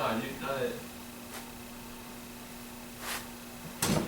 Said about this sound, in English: You hit the door.